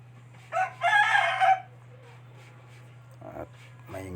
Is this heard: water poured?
no